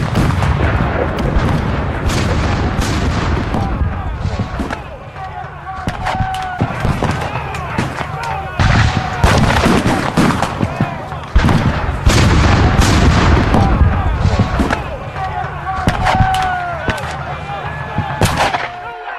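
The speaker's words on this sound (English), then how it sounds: "French artillery targeted the ice" French artillery at the 1805 Battle of Austerlitz firing on troops crossing frozen ponds: a dense, loud barrage of repeated heavy cannon blasts and rumbling battle noise, with sharp bursts throughout.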